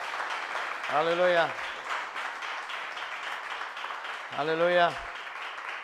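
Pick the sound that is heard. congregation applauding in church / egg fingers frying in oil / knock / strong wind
congregation applauding in church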